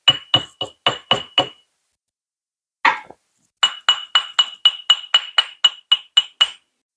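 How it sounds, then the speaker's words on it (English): A hammer taps a silver spinner ring on a steel ring mandrel, giving crisp, bright metallic clinks in quick rhythmic bursts, with a pause and a single duller knock before a longer run of even taps. "we're going to start tapping this away here in order to enlarge it and also just give it a little bit of a different texture"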